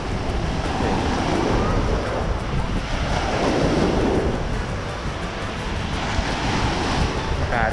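Continuous roar of sea waves breaking on a Thai beach at Bangsaen, loud and steady, with wind buffeting the microphone throughout.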